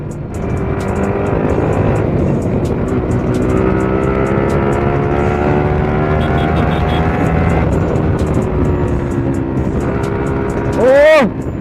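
A loud motor vehicle exhaust, likely a motorcycle on a Sunday ride, drones steadily with shifting harmonic tones, and near the end a sharp rising rev whine climbs quickly before cutting off.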